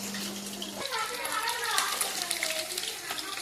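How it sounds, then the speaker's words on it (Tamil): Water runs from a tap as chicken is washed in a home kitchen for a Sunday lunch, a steady gushing splash close by with voices talking over it. "எங்க ஜோலா கூட ஹெல்ப்பரா அந்த சிக்கன் வாஷ் பண்ணி தரது."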